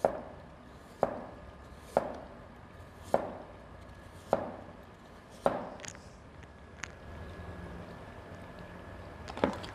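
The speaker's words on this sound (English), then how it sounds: "Carrot, I'm just gonna slice it by round." A knife chops a carrot into rounds on a cutting board, about ten crisp, evenly spaced strokes close up in a quiet kitchen, with no talking.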